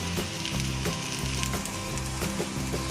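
Corn rice with grains of corn sizzles steadily in a hot pan, a close, continuous frying hiss broken by soft stirring scrapes.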